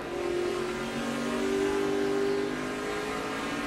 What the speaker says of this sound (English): you can hear him feathering that throttle